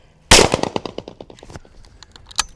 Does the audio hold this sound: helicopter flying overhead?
no